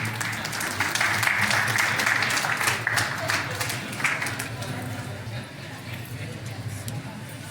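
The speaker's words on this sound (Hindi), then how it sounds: "जोरदार तालियों से स्वागत करें।" An audience applauds at an award ceremony honouring excellence in web journalism. Dense, loud clapping fills the first four seconds, then gradually thins and softens toward the end.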